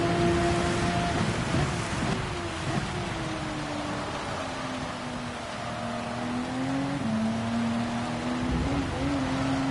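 Heavy rain sprays across the track at Dragon Trail Gardens in Gran Turismo 7 as race car engines drone and shift pitch, a dense wet hiss beneath the steady motor whine.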